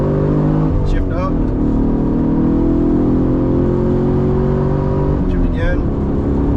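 A manual car engine revs loudly and climbs in pitch through the gears as the driver shifts up, with a sustained rising drone, brief dips at the shifts, and a voice talking over it.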